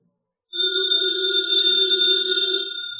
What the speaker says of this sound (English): that phone bell means exciting adventure